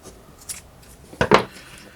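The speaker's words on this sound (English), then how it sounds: "So I finally got some new scissors." A new, cheap pair of scissors snips through paracord, two quick crisp cuts in close succession after a faint earlier click, alone in a quiet room.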